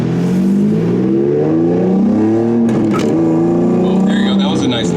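A Nissan 350Z with a grinding shifter, its engine running while the gears are shifted, gives a loud steady engine drone whose pitch dips and rises between shifts, with a few sharp clicks near the end.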